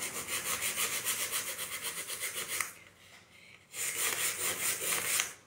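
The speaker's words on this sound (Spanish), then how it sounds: "Yo lijo para un lado." Painted wood with walnut underneath is sanded by hand in quick, even back-and-forth rasping strokes. The strokes stop for about a second, then resume at the same close, steady rhythm.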